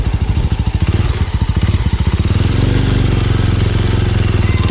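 A motorcycle touring Sulawesi rides along a rough road, its engine chugging in a steady, close, loud rhythm that smooths into a continuous drone as it gets under way.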